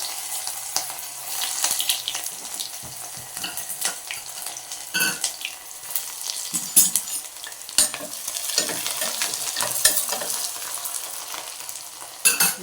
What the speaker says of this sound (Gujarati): જીરું મેથીના દાણા અહીંયા લીમડો ને આપણે નાખશું તેના ડુંગળીનો વઘાર કરશું